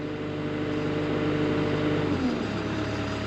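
A Cat 299 compact track loader engine idles steady and close, then throttles down near the end as its pitch drops to a lower hum.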